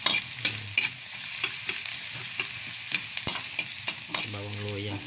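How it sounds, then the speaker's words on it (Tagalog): Garlic and ginger sautéing in a pan for adobo of chicken liver and gizzards, a steady close sizzle broken by repeated scraping stirs and clanks, with a louder burst of frying near the end. "Inisa muna natin sa bawang"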